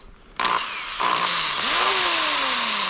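A smoke-damaged Black & Decker power tool whines loudly after a sudden start, with its pitch dipping and rising as the load changes, then runs steadily and alone for the rest of the moment.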